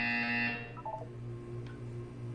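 Portal game buzzer: a loud harmonic electronic buzz for about half a second, followed by a short falling electronic tone and a faint low hum.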